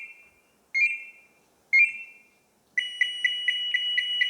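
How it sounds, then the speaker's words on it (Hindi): A tunnel rescue safety kit alarm sounds in clean isolation: two separate rising electronic tones, then a fast repeating beeping pulse that keeps going, loud and close. "उनको अलार्म की आवाज़ आएगी कि हाँ हमारा जो यूज़र है वो खतरे में है"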